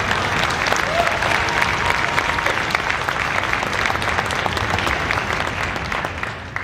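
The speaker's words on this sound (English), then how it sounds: "How about a round of applause for them?" A concert hall audience at a high school symphonic band concert claps in a steady round of applause for the parents, dense and sustained at even loudness throughout with no break.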